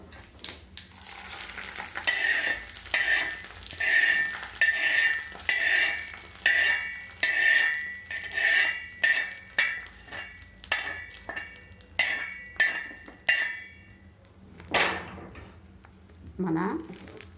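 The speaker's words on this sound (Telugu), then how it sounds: "దీనికి పోపు వేసుకుందాము" Tempering for peanut chutney crackles and sizzles in a pan as a spoon stirs and clinks against the metal, with repeated bursts under someone talking nearby.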